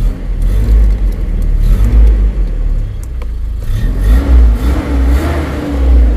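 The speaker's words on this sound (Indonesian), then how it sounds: "Suara mesin kedenger ya." A cold carbureted 2006 Nissan Terrano engine idles with a loud low rumble, then revs up and down in several rising and falling surges, close up and with no talking.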